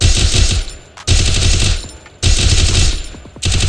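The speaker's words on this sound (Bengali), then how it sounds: "তো এসএমজি গানে দেখা যাক কি অবস্থা হয়" Rapid SMG fire in the Free Fire video game comes in three loud, sustained bursts of dense automatic shots, each trailing off briefly before the next begins, with no voices over it.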